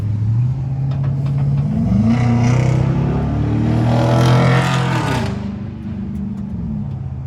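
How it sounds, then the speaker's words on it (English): A carbureted hot rod engine turns over and catches, then revs loud and close, its pitch rising and falling through several throttle blips before settling back toward idle. "Once you go ahead and go crank it over, and just crank it, I'll choke it out here."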